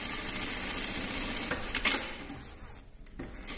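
An industrial Sansei direct-drive straight-stitch sewing machine with thread trimmer runs steadily through thick fabric, its fast, even mechanical whir and clatter close and continuous, dropping briefly near the end before resuming.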